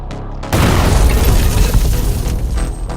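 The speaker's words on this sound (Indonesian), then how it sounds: "Ledakan mobilnya." A car explosion in an action film, a sudden loud boom that bursts in after a quiet moment and rolls on with heavy rumbling and debris.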